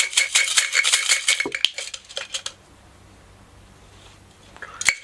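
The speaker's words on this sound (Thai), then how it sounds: "มาเสี่ยงเซียมซีกันนะครับ" Thai fortune sticks (siam si) rattle rapidly in a cup, a dense clattering shake for a couple of seconds, then a quieter pause and a final brief clack, close and alone without talk.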